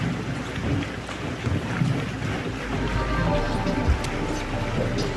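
A Highfield RIB with deflated pontoons runs home slowly at about 4 or 5 knots on open water. A steady low rumble of engine and water is mixed with heavy wind buffeting on the microphone and occasional splashes, with no talk.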